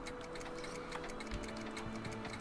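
Wall clocks inside a room in the Back to the Future video game tick faintly and regularly, alone and with no other sound over them.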